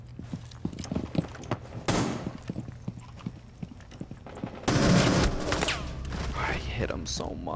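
Gunfire in a shooter video game comes in rapid bursts, including a dense loud volley midway through, mixed with other game effects, while a person talks over it.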